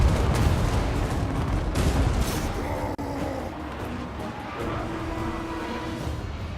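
Organ gun volleys firing in Total War: Warhammer Mortal Empires, Clan Angrund dwarf army in battle, a dense continuous roar of massed gunfire and battle noise, loud throughout with a brief dip near the middle.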